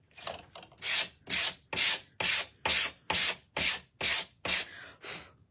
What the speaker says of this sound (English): I'm sanding that much off to make a huge difference